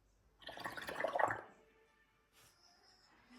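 Bubbling gurgle of a straw blown into soapy water, a close, steady burst lasting about a second before fading to near silence and a faint trickle.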